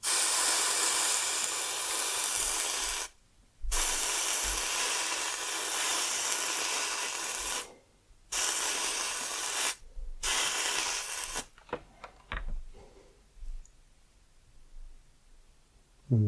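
A handheld steamer hisses in long, steady bursts against a dampened spot, cutting off briefly a few times before turning into softer, intermittent rubbing and scraping sounds.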